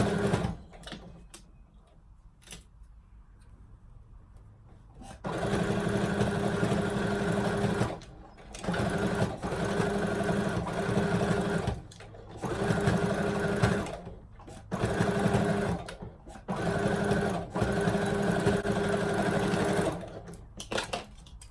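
A sewing machine runs in bursts of steady rapid stitching through thick sweatpants fabric, with short pauses between runs, close and fairly loud, with no talk over it.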